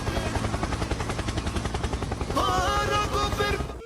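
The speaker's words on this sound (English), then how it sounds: "Helicopter, helicopter." Rapid rhythmic rotor chopping pulses loudly and evenly, joined midway by higher whining tones, as a helicopter in the video game Nuclear Nightmare thrums close by.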